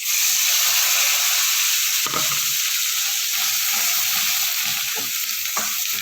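Loud, steady sizzling of a ground mint and coriander paste frying in hot oil, with occasional scrapes and stirs of a spoon against the pan.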